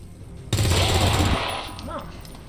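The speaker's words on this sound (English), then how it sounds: "Let's do a shot with Hulk first" A soldier's gun fires in the XCOM 2: War of the Chosen strategy game, a loud, close burst of gunfire that ends in a rumbling tail and then fades away, with no talking.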